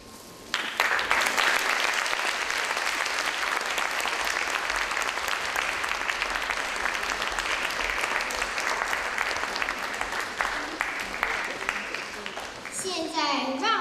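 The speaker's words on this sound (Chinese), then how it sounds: "现在，让我们以热烈的掌声欢迎我们的刘烨老师和蔡永国老师来到台上" An audience claps loudly and continuously at a stage curtain call, dense steady applause that starts abruptly and carries for over ten seconds, with a voice briefly audible near the end.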